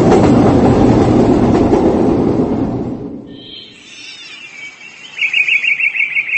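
Train sound effect in a Bengali audio drama: a loud, steady rumble of a running train fills the first half, then fades as high whistling tones and a pulsing, alarm-like signal take over. No voices.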